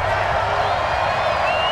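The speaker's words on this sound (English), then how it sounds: "this is where the Arrowhead crowd can make it very tough" Arrowhead Stadium crowd roaring steadily at an NFL game, Raiders at Chiefs, on third and goal: a dense, continuous wash of many voices, loud and sustained, with no clear breaks.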